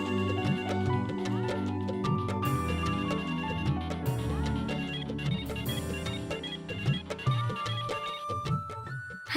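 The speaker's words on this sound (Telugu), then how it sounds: "సార్ రింగ్ అవుతుంది" A telephone rings with a melodic ringtone in a television drama scene, playing continuously and fairly loud amid dense, busy tonal sound.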